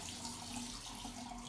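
Water runs steadily from a tap into a sink while hands are rinsed during an aseptic handwashing routine, a faint continuous splashing hiss with no talk.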